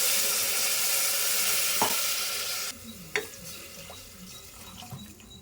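Water splashes into a pot in a steady rushing stream, then stops, leaving faint clinks and quiet kitchen sounds.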